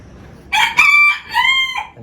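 A small hen calls out nearby in a loud, clear, drawn-out squawking cluck lasting over a second, heard alone with no talking.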